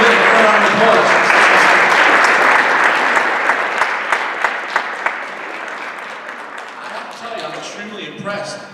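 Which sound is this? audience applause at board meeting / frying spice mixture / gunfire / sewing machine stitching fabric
audience applause at board meeting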